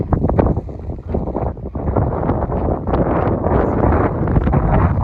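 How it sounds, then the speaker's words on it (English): Strong, gusty wind buffeting the microphone on a hiking trail, a loud continuous roar with rustling throughout and no speech. "Ooh, windy."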